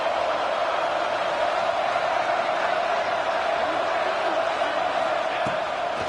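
A football stadium crowd roars steadily for a big third-down play, a dense sustained wall of cheering and noise heard from a distance, with no individual voices standing out.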